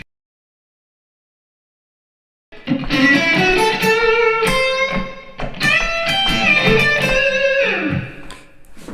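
An electric guitar plays a lick mixing minor and major pentatonic phrases, entering after a short silence with bright picked notes, bends and pull-offs, loud and alone.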